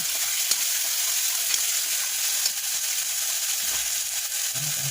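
Two tomatoes fry in a hot pan for chole masala, giving a dense and even sizzle that holds steady throughout with no talking.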